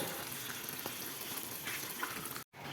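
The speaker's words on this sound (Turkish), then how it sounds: "Kıymamızı tavaya aldık. Yarım çay bardağı sıvı yağımızı ekledik. Kavuruyoruz." Ground beef frying in oil in a pan, a dense, even sizzle that continues steadily and then cuts out abruptly near the end.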